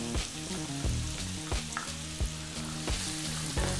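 Onion, carrot and green beans frying in a pan over above-medium heat give a steady close sizzle, broken by sharp clatters as the vegetables are stirred and tossed.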